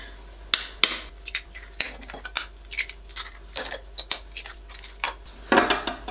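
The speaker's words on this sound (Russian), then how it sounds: "Буду взбивать венчиком." A wire whisk beats eggs and sugar in a bowl, giving irregular metallic clinks and taps against the bowl rim over a faint steady hum, with no talking.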